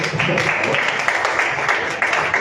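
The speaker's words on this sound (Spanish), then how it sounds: "Démosle un aplauso a nuestros invitados" Audience applause for two guest poets at the close of a literary session, a dense, steady wash of clapping filling the whole stretch at even loudness.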